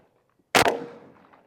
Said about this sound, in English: That slug shot in the neck, firing.